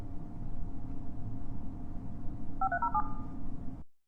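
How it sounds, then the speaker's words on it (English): A steady telephone dial tone hums for several seconds, then a short run of quick dialing beeps sounds near the end before the line cuts off abruptly. "A dial tone."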